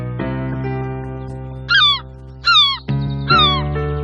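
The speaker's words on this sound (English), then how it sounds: "It's that bird that's making all the noise, Clifford." Cartoon bird calling over a steady musical bed, three loud harsh squawking calls at an even pace after a short lead-in.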